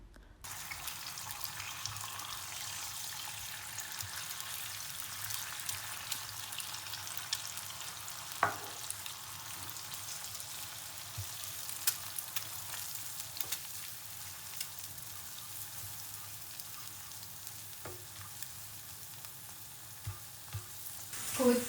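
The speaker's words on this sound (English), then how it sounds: "Crack 2 eggs into the pan and scramble the eggs." Two eggs sizzle steadily in a hot pan while being scrambled for shrimp Pad Thai, with occasional faint scrapes and clicks of stirring and no talking.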